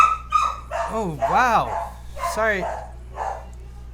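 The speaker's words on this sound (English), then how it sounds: "I have no idea what the dog's barking at." A dog barks indoors in a quick burst of loud, close yaps and woofs, with a brief human exclamation between them.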